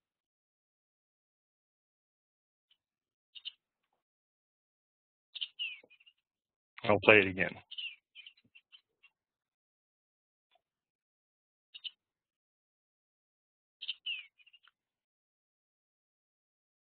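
Bluebird calls played back as short, high chirps spaced several seconds apart, faint and isolated, with a brief spoken remark in between.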